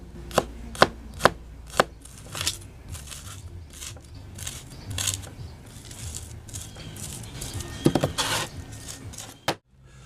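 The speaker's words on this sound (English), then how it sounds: "We'll chop them up, put a little bit of salt on the cutting board," Garlic cloves chopped with a knife on a cutting board, with several sharp, close knocks early on, then quieter scraping and smearing strokes and a few more firm taps near the end.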